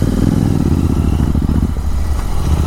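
Royal Enfield GT 650 motorcycle riding in first gear, a loud, close, continuous parallel-twin engine rumble with a steady throbbing beat.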